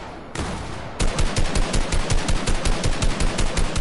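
Rapid automatic gunfire from a shooter video game, a dense run of loud, evenly spaced shots that starts after a brief lead-in and keeps going steadily to the end, with no talking.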